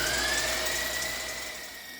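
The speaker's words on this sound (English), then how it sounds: "The egg whites are beating up nicely" Electric mixer beating egg whites with cream of tartar for a butterscotch pie: a steady motor whine with a faint tonal hum that slowly fades over two seconds, with no talk.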